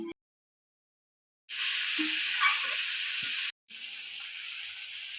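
Fried potatoes and chili powder tipped into a hot pan, setting off a steady, moderate sizzle that begins after a silent stretch, cuts out briefly and then resumes.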